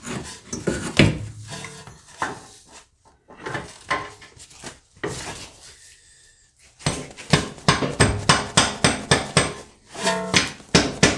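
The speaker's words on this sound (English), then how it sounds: "Kind of hammer it in like that." Repeated sharp metallic hammer strikes driving an axle into place on a 2010-13 Acura MDX during intermediate shaft replacement, several quick bursts with brief pauses, ending in a steady run of evenly spaced blows, close up.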